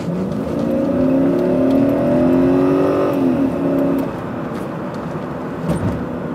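A BMW E38 740iL V8 revs up and eases off, heard from inside the car's rear seat: a muffled, rising and falling engine hum that swells and then settles to a low drone.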